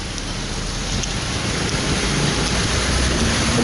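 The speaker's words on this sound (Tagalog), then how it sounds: "Lakas ang ulan na hangin eh." Heavy rain driven by wind pours down outdoors beside a road, a dense, steady roar of falling water that grows slightly louder throughout, with no voices.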